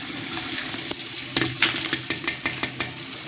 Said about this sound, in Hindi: अब ये इसको मिक्स कर देना